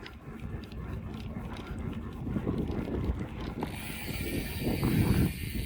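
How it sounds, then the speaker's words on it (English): Rear hub of a Priority 600HXT mountain bike with Pinion gearbox clicking in a steady mechanical ratchet while coasting on Colorado singletrack, close and continuous under rushing wind and trail rumble. "I do love the sound of that hub."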